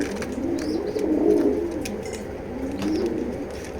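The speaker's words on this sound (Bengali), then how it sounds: "এটা খুবই ডাকে সেজন্য আমি ওর যেই রুমটা ওর রুমে থেকে ডাক দেখা দিতেছি" A bar homer racing pigeon coos close by in two rolling, throaty phrases, indoors in its room, with light background noise and no speech.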